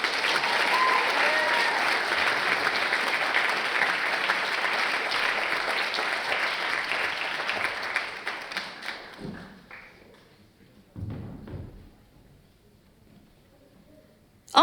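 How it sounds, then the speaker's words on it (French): A large audience at the CES 2024 finale applauds loudly and steadily for about eight seconds, then the clapping thins out into scattered claps and a few thuds before fading nearly to silence. "Applaudissons-les!"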